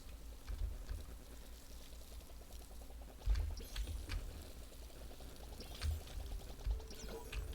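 A watering can in a farming video game sprinkles seeds with a sustained pouring splash, rhythmic gurgling and trickling throughout, with a few louder surges along the way.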